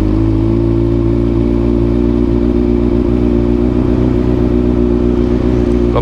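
A 2012 Kawasaki ZX6R sport motorcycle idles close by with a loud, steady, slightly lumpy engine drone that holds throughout, with no voices.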